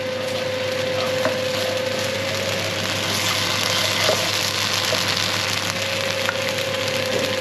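Garlic and chilli stir-fried in a hot pan give a steady, close sizzle with light crackling and a few soft utensil clicks, with no talking.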